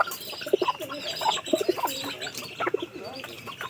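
Domestic pigeons bought for a home loft, cooing in repeated low throaty bursts with some chirps, fairly close and without talk.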